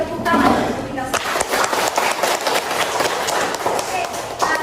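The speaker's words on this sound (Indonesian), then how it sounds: "Kita beri tepuk tangan untuk kita semua." Classroom of children applauding together after a teacher's cue, a dense, steady patter of many hands clapping close by for several seconds, with a few voices mixed in.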